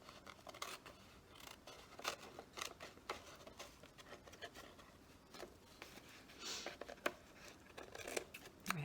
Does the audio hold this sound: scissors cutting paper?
yes